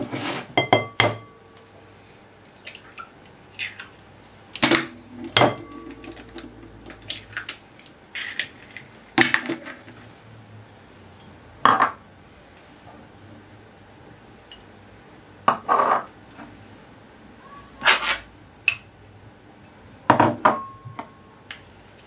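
Scattered clinks and taps of utensils and containers against a large bowl as eggs, almond powder, powdered sugar, butter and bitter almond are added for a galette des rois, irregular bursts over a quiet kitchen background.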